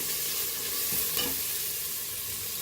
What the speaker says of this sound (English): So fry this very, very nicely.